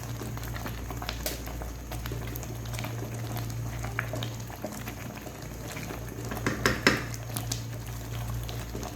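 Chicken haleem simmers in a pot, a quiet bubbling and low steady hum with occasional light clinks of a spoon against the pot, growing busier near the end; no one speaks.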